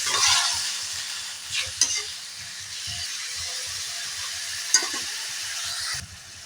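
Papaya and lemon chutney bubbling in a pan on the stove, a loud continuous steamy hiss and sizzle with a couple of sharp knocks against the pan and no voices.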